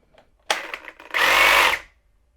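A Milwaukee M18 power tool running off a battery extender gives a short stuttering blip, then whirs steadily for about half a second before stopping. The sound is close and fairly loud.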